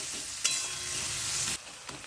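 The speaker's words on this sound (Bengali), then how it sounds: "মিডিয়াম ফ্লেমে ভেজে নেব।" Chopped onions fry in oil over a medium flame for a chicken curry, giving a steady, close sizzle with faint stirring scrapes and a brief sharper crackle near the start.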